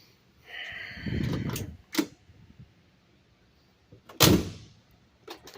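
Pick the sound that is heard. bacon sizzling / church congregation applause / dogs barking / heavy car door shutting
heavy car door shutting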